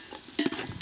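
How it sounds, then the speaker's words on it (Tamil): A utensil stirs cashews frying in oil with ginger and garlic, making faint scraping and sizzling strokes that pick up after a quiet start. "10 முந்திரியை போட்டு பதறாம கிண்டுவோம்"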